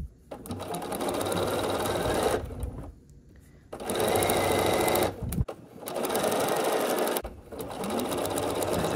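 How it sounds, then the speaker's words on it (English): A sewing machine stitches a foundation paper-pieced star quilt block, running in three long steady bursts separated by short pauses. "flip it over and sew on this line before anything moves"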